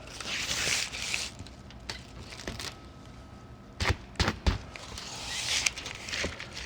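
Foil tape being pulled and pressed along a Micro-Aire duct board seam: close crinkly tearing and rubbing, with a few sharp cracks and pops midway, moderately quiet and without talk.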